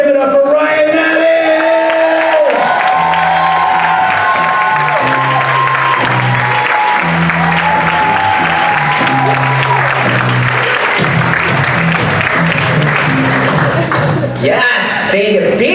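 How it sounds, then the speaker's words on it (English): Audience at a comedy show in Vegas applauds, cheers and whoops as a comedian takes the stage, a dense loud roar of clapping and shouts filling the whole stretch, with a host's voice over it near the start. "Let's clap it up. Give it up for Ryan Nanish!"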